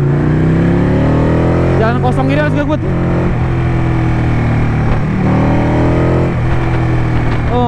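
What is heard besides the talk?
Ducati motorcycle engine revving in traffic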